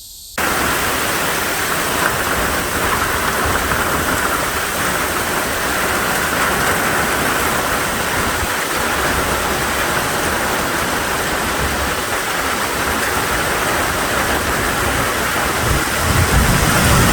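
Heavy rain pours steadily outdoors among trees, a dense, loud wash of sound that holds constant for the whole stretch with no voices.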